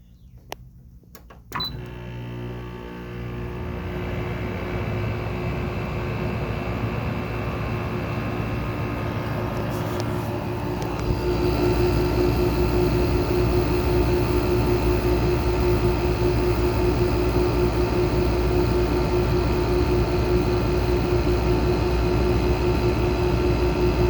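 A 5000 BTU window air conditioner with a Quingen compressor starts up with a few clicks, then settles into a steady, loud hum and whir that grows slightly louder partway through, running alone with no talk.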